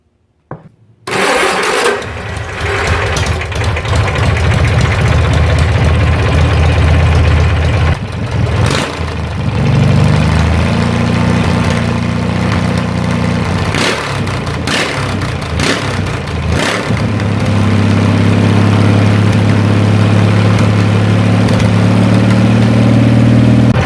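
A small engine for a Cushman cart cranks and catches after a short silence, then idles roughly and close. Its pitch rises and falls through several revs over the following twenty seconds, loud and alone.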